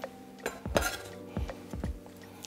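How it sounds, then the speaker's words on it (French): Salad being tossed in a bowl, with several distinct clinks and clatters of utensils against the dish, close and moderately loud, no voices. "je mélange directement à ma salade"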